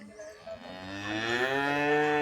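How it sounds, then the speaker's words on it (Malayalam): Cows in a village cowshed nearby give one long, rising, drawn-out moo, loud and tonal, with no voices over it. "തൊട്ടടുത്ത് തന്നെയാണ് നമ്മളുടെ പശുത്തൊഴുത്ത് അവരങ്ങനെ എത്തി നോക്കി അമ്മയെ വിളിക്കുകയാണ്"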